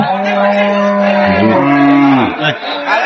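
A Friesian cow moos loudly and close by at a cattle market, a long drawn-out low bellow that rises and falls before trailing off, with faint background chatter.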